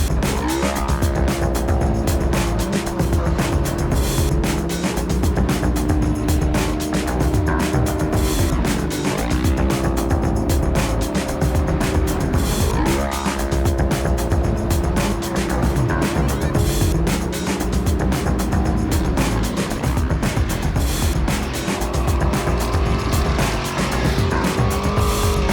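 Race cars practice at Lucas Oil Speedway, their engines roaring continuously and loudly as they pass and circle, with revving pitch sweeps and occasional tire squeal throughout.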